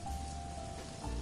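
Steady rain falls outside a room late at night in Manila, a dense even hiss with a faint low rumble running under it, with no voices and no break across the whole stretch.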